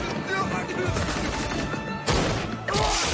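A dense fusillade of gunfire rattles through a battle scene in the anime Heavy Object, with rapid overlapping shots and heavier blasts near the end, mixed with shouting voices.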